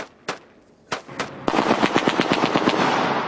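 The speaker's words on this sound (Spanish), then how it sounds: "Lo que ustedes acaban de escuchar es una ráfaga de disparos a mis espaldas aquí en la capital libia de Trípoli." A burst of automatic gunfire in Tripoli, Libya: a few separate loud shots, then a rapid sustained rattle of rounds at moderate distance, with no talk.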